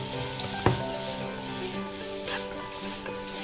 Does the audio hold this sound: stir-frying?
yes